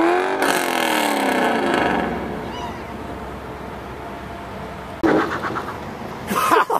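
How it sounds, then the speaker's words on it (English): A Chevrolet Corvette Z engine revs hard during an attempted burnout, loud and close for the first two seconds before dropping to a steady idle rumble, then flaring again in short bursts near the end. "She's trying to burn out in it."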